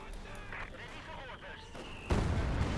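In Company of Heroes 2, a heavy mortar shell lands with a sudden loud blast and a roar that lingers after it. Before the impact, a commentator talks over quieter battle noise.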